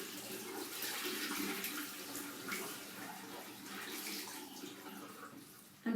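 A face cloth gets rinsed under a running tap, a soft, steady splash and hiss of flowing water with a little sloshing, ending in a brief clunk.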